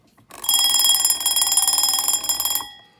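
A 1970s Westclox Baby Ben Style 8 Fashion Brite wind-up alarm clock rings loudly at full volume, a rapid metallic bell clatter lasting about two seconds before stopping abruptly.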